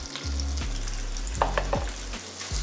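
Paneer cubes being sautéed in a pan for a paneer macaroni dish, with a steady close sizzle and a few spatula scrapes and taps, and no voices.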